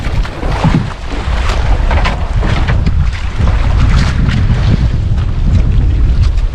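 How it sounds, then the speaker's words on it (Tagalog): Strong wind buffets the microphone on a small fishing boat at sea off Kanipo in rough, choppy water, a loud continuous roar with waves slapping the hull underneath. "malakas po ang hangin at maalon pa"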